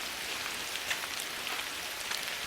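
Steady rain falls at a campsite where food is being cooked outdoors, a dense even patter of drops hitting surfaces with occasional louder splashes, close and continuous with no talking.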